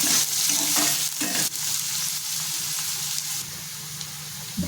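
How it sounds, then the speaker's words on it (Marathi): Three large, finely chopped onions sautéing in a pan for a prawn masala, a steady close sizzle with the scrape of stirring throughout, loud and continuous with no voices. "छान परतून घ्यायचे आपल्याला सोनेरी रंग येईपर्यंत परतून घ्यायचे आहे"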